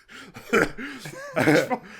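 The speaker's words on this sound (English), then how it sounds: "You keep coughing in my direction." Two harsh, close coughs, each a short burst, separated by a brief pause with a faint vocal sound between them.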